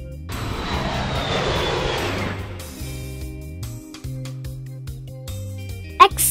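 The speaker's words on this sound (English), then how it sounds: "Aeroplane." A loud aircraft engine roar fades away over a few seconds, leaving a quieter background with a brief sharp knock near the end.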